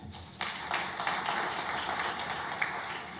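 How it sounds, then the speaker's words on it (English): Sustained audience clapping at a 30th anniversary opening ceremony for a Caribbean telecommunications union, starting abruptly and holding steady as a dense wash of many hands, fairly distant, with no talk over it. "I urge you to sustain that applause"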